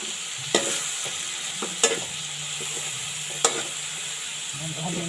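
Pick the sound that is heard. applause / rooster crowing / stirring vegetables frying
stirring vegetables frying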